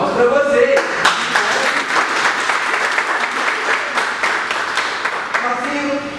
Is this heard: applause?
yes